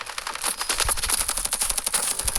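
Automatic gunfire in the Standoff 2 shooter video game: rapid, unbroken bursts of sharp cracks crackle close and loud for the whole stretch, with no talking over them.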